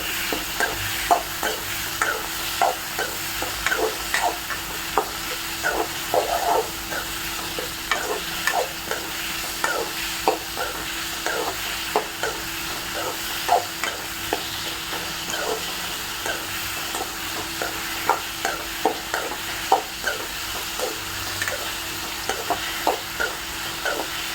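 Three tomatoes sauté in a pan for a greens mash, with a continuous close sizzle and frequent rhythmic spatula scrapes and clicks throughout, and no voices.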